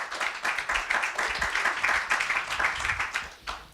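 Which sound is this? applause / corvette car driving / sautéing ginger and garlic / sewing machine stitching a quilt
applause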